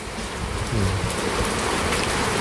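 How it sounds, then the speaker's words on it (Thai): Steady rain falls in a continuous close hiss of drops striking surfaces, fairly loud and unbroken throughout. "โอ้ยฝนตก"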